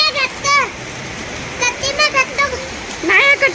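Steady rain hisses in the background at a village temple fair while voices call out in short bursts over it.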